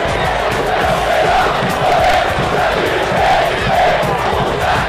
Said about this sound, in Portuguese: O Morenão foi tomado pela torcida corintiana, que não parou de gritar um só instante